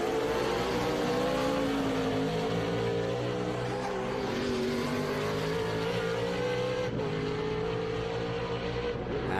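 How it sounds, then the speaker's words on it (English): Stock cars racing on the final lap of a feature race at Sebring, engines droning loud and continuous with layered motor tones and no talk. "Final lap of the race here for the stock cars"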